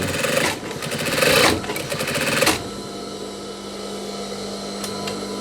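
A sewing machine stitches the sleeve placket of a denim jacket: a loud, rapid, close mechanical rattle for about two and a half seconds, then it slows to a quieter steady hum.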